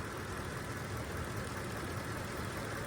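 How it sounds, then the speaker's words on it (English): Engine of a 2006 Ford F-150 idling during an alternator test, a steady, even mechanical drone with a faint knocking texture, close and continuous with no talk. "you can possibly see that the engine will start shaking, start stalling"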